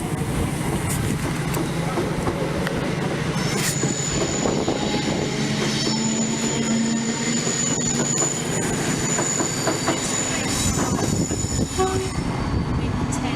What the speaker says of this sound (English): The train just about to pass through platform number 10 is the 1041 487 Foxtrot Freightliner service